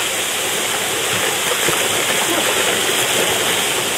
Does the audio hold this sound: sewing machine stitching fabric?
no